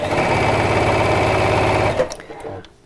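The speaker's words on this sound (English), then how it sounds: "I am sewing close to the cord" A sewing machine stitches fabric close to a cord, running in a fast, even, loud mechanical whirr for about two seconds before stopping abruptly, followed by a few small clicks.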